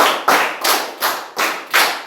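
Hand claps in a counting clap game in a classroom setting, six sharp claps in a steady rhythm about a third of a second apart, close and loud with no talking.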